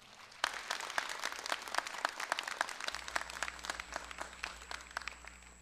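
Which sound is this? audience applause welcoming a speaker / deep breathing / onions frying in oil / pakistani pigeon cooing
audience applause welcoming a speaker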